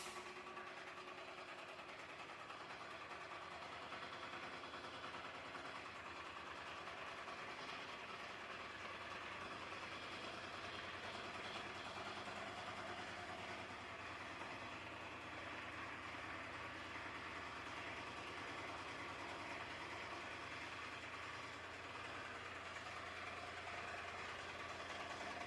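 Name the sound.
ship engine room main air compressor running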